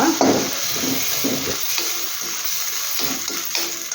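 Ingredients sizzle in a hot pan while being stirred, with a steady frying hiss running underneath irregular scraping strokes, all close and continuous.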